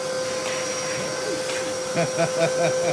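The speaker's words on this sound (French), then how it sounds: "Benji, j'expliquais aux gens que tu passes pas l'aspirateur chez toi, mais par contre là tu le passes à l'atelier" A vacuum cleaner runs steadily in a motorcycle workshop during a supermoto build, its motor whine constant and close while people talk over it.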